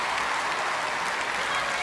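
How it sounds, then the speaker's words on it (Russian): Audience applause after a performance, a dense, steady wash of many hands clapping at full strength for the whole stretch, loud and close with no break. "аплодисменты!"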